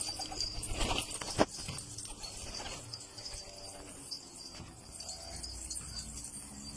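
Pigeons in a rooftop loft coo low and steady throughout, with a sharper bird call near the start and general outdoor ambience around them.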